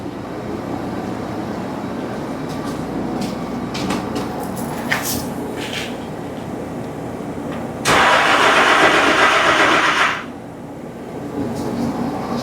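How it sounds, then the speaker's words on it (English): Starter cranking on a 2007 Nissan Frontier with a cold crank-no-start fault: a low mechanical churn underneath, then a louder burst of cranking for about two seconds, after which it drops back to a quieter rumble. "let's watch this RPM signal while I crank it."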